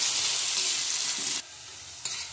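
Vegetables for restaurant-style chicken chow mein are lightly stir-fried in a hot pan. A loud, close sizzling hiss runs steadily, then drops abruptly to a quieter fry, and a brief clink or stir follows near the end.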